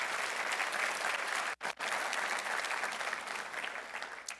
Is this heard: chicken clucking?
no